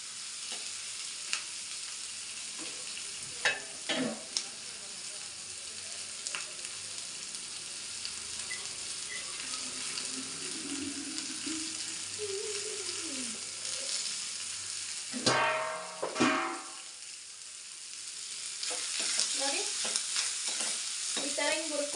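Dried coconut fries in a pan for sambar, a soft continuous sizzle broken by spatula scrapes and stirring clatters, close and fairly quiet, with no talk.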